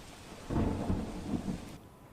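Heavy monsoon rain with thunder in Rajkot, a dense rumbling roar that swells after the first half-second and holds steady before dropping away near the end, with no voices.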